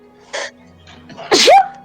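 A single close, loud sneeze, preceded by a short voiced sound, in a room during a tabletop role-playing game session.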